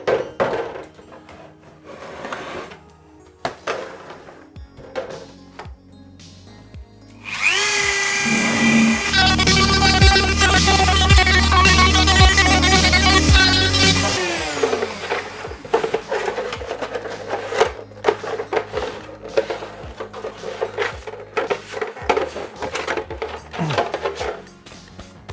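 Plastic Stormtrooper shin armor is trimmed with a loud, steady whirring rotary tool for several seconds, with scattered clattering and knocking of plastic parts before and after.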